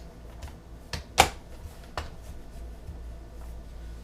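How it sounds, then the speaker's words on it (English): Plastic lid cover snapping onto a Nutri Ninja blender cup, a few sharp clicks and knocks with one louder snap in the middle, close and fairly quiet against a low background hum. "Okay, I'm attaching the lid cover."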